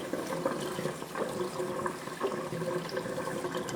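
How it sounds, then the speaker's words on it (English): Cold tap water running steadily over cooked vermicelli noodles in a kitchen sink, a continuous close splashing hiss with no talk throughout. "I might just run some cold water on them quickly"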